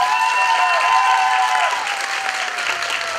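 Loud, close audience applause for the jury at the opening of a youth arts festival competition, steady dense clapping throughout, with a few sustained tones running through it.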